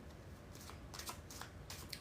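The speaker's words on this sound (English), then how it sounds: "We need 3 more shuffles." Tarot cards shuffled by hand, a quiet continuous riffling with soft repeated flicks and slaps, close and alone without talk.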